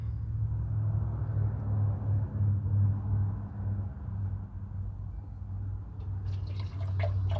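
Liquid is poured off settled material in a hobby e-waste gold recovery setup, a steady, low trickling and splashing pour with a rumbling hum underneath, no talk.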